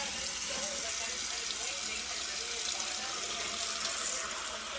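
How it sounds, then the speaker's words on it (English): Tap water runs steadily into a cooking pot for ramen, a continuous moderate splashing stream with no pauses. "You're going to need to fill it up with water."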